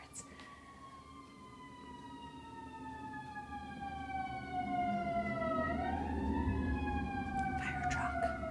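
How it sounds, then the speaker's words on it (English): Fire truck sirens sound in a neighborhood, sweeping wail tones gliding up and down at a distance, growing louder as they pass, with a low vehicle rumble beneath and no talk. "And here comes more sirens."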